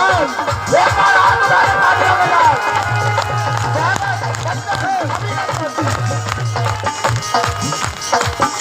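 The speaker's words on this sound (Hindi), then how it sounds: "एक बार इसके सम्मान में तालियां महिलाओं से चाहूंगा" Women in a crowd at an outdoor gathering applauding a young girl singer, a dense, loud wash of clapping and crowd noise with cheering and babble, alongside a low sustained musical drone.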